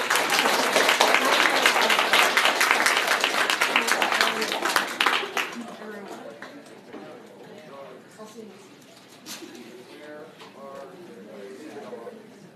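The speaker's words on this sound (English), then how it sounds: "you can all clap. Please clap." Audience applause after a senior presentation on happiness, a dense burst of clapping for about five seconds that fades into quieter room sounds and scattered voices.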